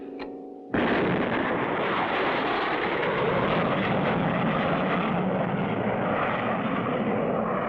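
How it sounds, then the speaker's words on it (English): Cartoon rocket blast-off effect: after a brief quiet moment, a sudden loud roaring whoosh bursts in and holds steady as a dense, continuous rumble to the end. "Our first successful attempt to really get a rocket off the ground."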